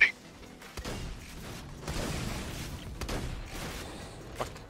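Scattered gunfire bursts from the Borderlands 2 video game, several sharp volleys spread across a few seconds over a steady background rumble, moderately loud.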